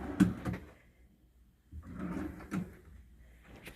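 A drawer in a hotel room at Drury Plaza Disney Springs slides open and shut, giving a sharp wooden knock, a quiet pause, then a longer rumbling slide and a soft bump, close and clear.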